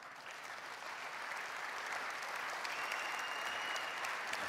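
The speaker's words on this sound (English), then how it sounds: "Some people are clapping, some people aren't." Scattered clapping from a conference audience at a tech demo, a soft, distant patter that swells slightly and carries on steadily, with no voices over it.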